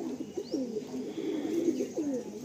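A chocolate doma pigeon, a male, gives close, steady, rolling coos that repeat several times, with a faint higher chirp at one point.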